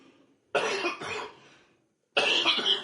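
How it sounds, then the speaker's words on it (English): Two bursts of harsh, forceful coughing, the first a double hack, then a pause and another rough cough, close and loud. "I've been coughing so hard lately"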